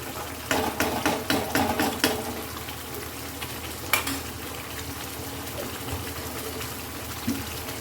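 Ghee and jaggery sizzle in a pan for rosogolla curry, a soft steady frying hiss broken by a burst of stirring clatter early on and a sharp metallic clink midway, with no voices.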